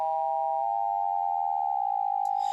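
A pure electronic sine tone, amplitude-modulated so a carrier and two close side bands merge into a single steady note, holding alone and fairly quiet with a faint tremble.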